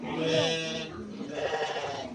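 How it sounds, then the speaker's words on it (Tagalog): Sheep bleating, a few wavering goat-like calls close by, with a bit of background talk mixed in. "Ay, parang kambing sila tumunog."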